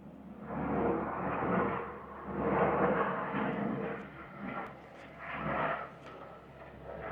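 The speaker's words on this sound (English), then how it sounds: "A low helicopter somewhere." Deep, rumbling drone of a low-flying helicopter swelling and fading in broad waves, sustained and fairly loud, with no talking.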